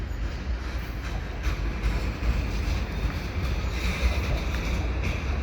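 Two back-to-back SD70M-2 diesel locomotives haul a mixed freight train loaded with lumber under the Dorval ramp, giving a continuous, fairly loud rumble with a steady roar throughout.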